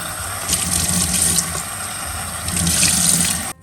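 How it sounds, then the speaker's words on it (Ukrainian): Berries being rinsed under cold water from a kitchen tap make a steady gushing splash that swells slightly partway through, close and continuous, with no speech. "добре промиваємо ягоди під холодною водою"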